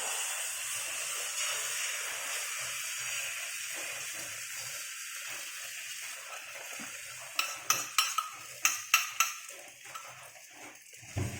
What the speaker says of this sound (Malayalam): അപ്പോൾ നമുക്ക് ഈ ബാറ്റർ ഒഴിച്ചു കൊടുക്കാം